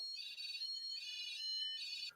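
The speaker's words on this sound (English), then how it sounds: "the alarm in here is going absolutely fucking crazy" A house alarm blares continuously, a piercing high electronic tone with steady harmonics that shifts pitch partway through and holds loud and unbroken, alone with no voices over it.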